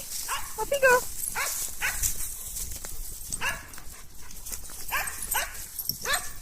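Dog barking at a dog daycare, several sharp barks and yips in quick bursts with whimpers between them, close by, while people talk.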